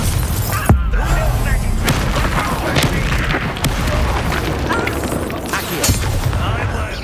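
The Confringo spell going off in the video game Hogwarts Legacy, a loud booming blast amid a dense battle of spell impacts and thuds, with voices shouting over the din.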